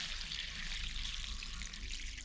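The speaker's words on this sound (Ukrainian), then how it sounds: "Воду злью" Dirty water drains steadily from a heating boiler that has gone unflushed for over 15 years, carrying fine metal particles; a continuous, fairly faint splashing trickle runs throughout with no voices.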